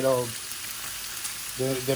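Steady crackling sizzle of bacon frying in a pan, with brief bits of talk at the start and end.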